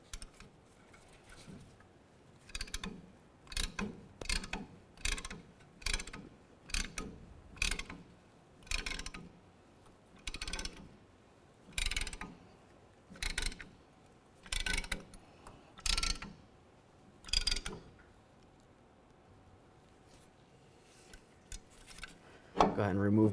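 A brake caliper piston on a 2014-2018 GMC Sierra 1500 is pressed back with a ratcheting tool, giving about fifteen evenly spaced bursts of clicking ratchet noise close to the microphone. A louder clunk comes at the end.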